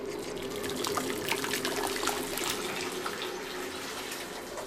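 Hot water pours steadily into a clay pot holding a pork-belly-wrapped chicken in a home kitchen, giving a continuous close splashing stream with no talk.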